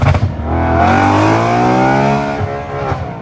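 A BMW E93 M3 fitted with loud valvetronic mufflers and test pipes roars as it accelerates hard, the engine note climbing steadily for a couple of seconds before easing off, close and loud with no talking.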